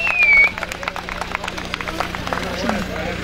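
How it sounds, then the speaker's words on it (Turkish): A crowd at a village festival in Sokutaş, 2015, claps for Şenel, scattered hand claps at moderate distance over a steady hum and murmur of people, with a short whistle-like tone at the start. "Şenel abime de güzel bir alkışlıyoruz"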